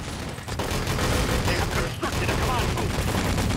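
Rapid bursts of gunfire in the multiplayer shooter Wolfenstein: Enemy Territory, loud, close and continuous, with a player's voice talking now and then beneath the shots.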